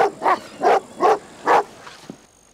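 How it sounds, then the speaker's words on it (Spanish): An old dog barks in a film scene, five evenly spaced, loud, clear barks in a steady rhythm, followed by a faint short yip as it trails off. "Es viejo, ladra por cada ruido."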